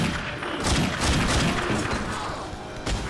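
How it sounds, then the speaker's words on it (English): Explosions of light bombs in The Darkness 2 video game, a dense burst of blasts and crackling impacts rolling through the whole stretch, fairly loud with a fresh hit near the end. "it's those light bombs"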